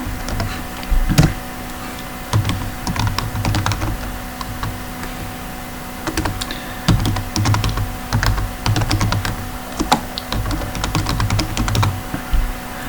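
Typing on a computer keyboard while filling in a registration form, bursts of quick clicking keystrokes with short pauses and a few heavier key presses, close up over a quiet room with no talking.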